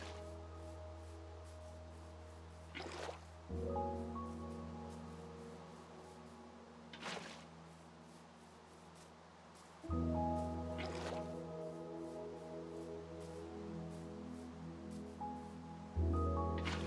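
Crops being watered in Minecraft: soft, faint splashing and squishing pulses recurring every few seconds over a steady low background hum, with no talk.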